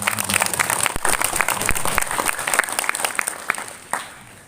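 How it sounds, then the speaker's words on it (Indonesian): An audience at a religious gathering in Lombok applauds, a dense, loud burst of clapping from a crowd that holds steady for several seconds before tapering off. "Beri tepuk tangan."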